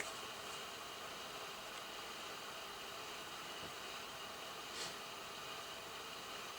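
A DNT Transit 40 CB27/81 UK FM CB radio with noisy squelch gives off a steady, faint hiss of static that runs unbroken throughout, with a couple of tiny crackles.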